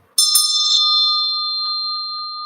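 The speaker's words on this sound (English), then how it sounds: "this is the bell that I keep ringing" A spiritual ritual bell is struck once, giving a bright, clear ring that holds steady and fades slowly over two seconds, up close with no talking.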